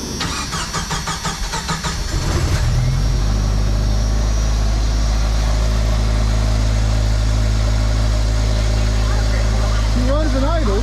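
A Jeep's 2.5-liter four-cylinder engine cranks for about two seconds, catches, and settles into a steady, loud, low idle close by, with a faint higher sound near the end.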